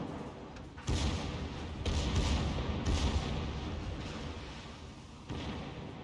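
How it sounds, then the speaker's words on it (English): Secondary guns fire in a naval battleship game, several loud booming blasts arriving at irregular intervals over a constant rumbling bed of battle noise. "Here comes your secondary guns."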